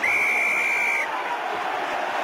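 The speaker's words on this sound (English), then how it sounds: "the whistle's gone for the penalty" A referee's whistle sounds for a penalty in a Heineken Cup rugby match between Glasgow Warriors and Cardiff Blues, one long shrill steady blast of about a second over stadium crowd noise.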